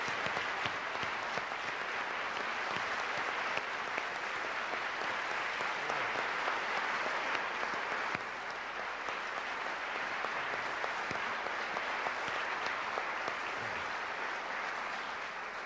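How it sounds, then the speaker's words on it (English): Sustained audience applause for World War II veterans standing at a public conversation event, dense and steady clapping from a large crowd lasting the whole stretch without a break. "Would you please stand so we give you a nice round of applause"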